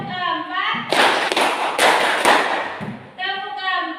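A class of schoolchildren clapping in a counted pattern, several sharp unison claps set between a teacher's sung-out count, loud and close.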